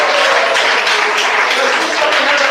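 Church congregation clapping together, a dense steady burst of applause filling the room without let-up.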